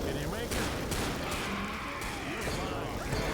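Rapid gunfire from the zombie shooter game Left 4 Dead (2008) fills the clip continuously and loudly, with bursts overlapping one another and player chatter underneath.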